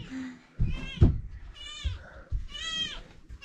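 A cat in Nagaland gives two drawn-out meows close by, preceded by a few soft thumps and short noisy sounds with faint voices in the background.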